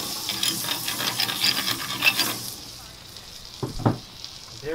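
Butter sizzling on a heated Himalayan salt block before grouper goes on, a soft steady frying hiss that fades, then a couple of brief clinks near the end.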